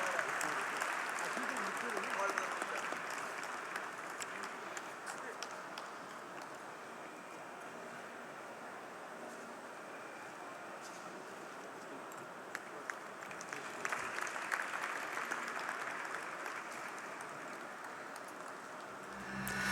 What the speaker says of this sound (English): Ladies and gentlemen, round of applause for Mr. Sudhanshu Pandey sir and Mr.